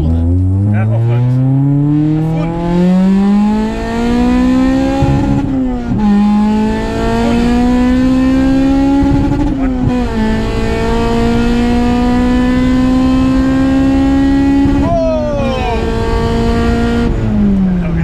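A supercharged Honda Civic VTi EG9 with a K20 engine accelerates hard at full throttle, screaming up through the revs in several loud pulls with brief dips at gear changes, heard from inside the car.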